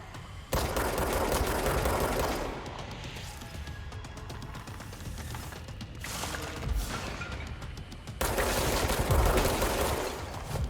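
Sustained rapid gunfire in the video game Control: a dense automatic stream that keeps going through most of the stretch, dipping briefly in the middle and then swelling back louder, with no talk over it.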